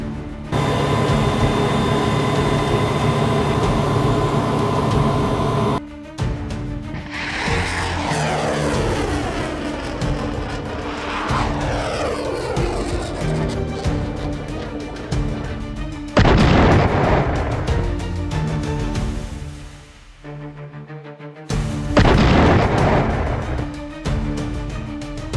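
A Russian Iskander-1000 missile launch roars with loud, rising rushes and sweeping whooshes, two further powerful blasts following after a short drop-off, all over a steady tonal background.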